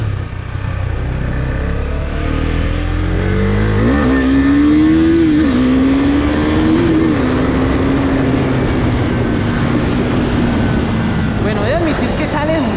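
Husqvarna Svartpilen 401 engine while riding, a steady loud drone that rises in pitch partway through and then holds, with heavy wind noise around it.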